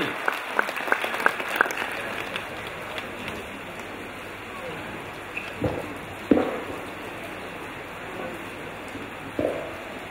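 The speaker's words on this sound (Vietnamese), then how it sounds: "Tôi xin quý công đoàn dành một tràng pháo tay nhiệt liệt để chúc mừng." Audience applause at a Catholic parish feast celebration, a patter of claps with a few sharp, louder claps standing out early and later, fading to scattered clapping over room noise.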